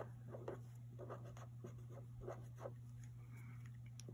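Soft scratching strokes of numbers being written by hand on paper, in short irregular bursts over a steady low electrical hum, faint and close.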